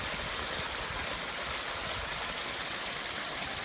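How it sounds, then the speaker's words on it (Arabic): Water of a volcanic sulphur hot spring, near boiling, flows steadily in a continuous loud rushing wash, close by and with no talk over it. "هذه من هنا جاري الماي"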